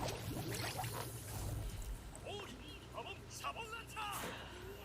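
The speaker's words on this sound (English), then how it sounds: "Hamon bubbles." Bubbling, gurgling Hamon bubbles sound effect from the JoJo's Bizarre Adventure Part 2 anime, a run of watery pops and rising chirps over a busy, noisy backdrop, heard under ongoing talk.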